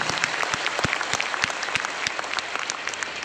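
A church congregation bursts into brisk, dense applause, with many hands clapping close and loud for the whole stretch.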